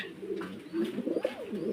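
Running breeding pigeons, kept for egg-laying and raising chicks at a seller's loft, coo in a steady, rolling murmur of low throaty calls that swell and overlap across the whole stretch, fairly close and without speech.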